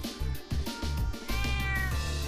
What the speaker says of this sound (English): Alright, here's the cat.